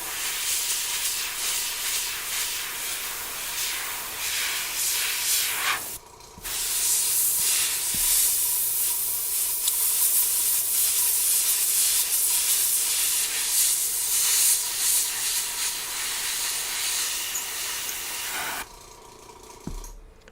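An airbrush hisses steadily as it lays a final coat of paint, a continuous close spray broken by two short pauses, with no talking.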